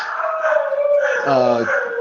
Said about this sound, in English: the 2 you hear now howling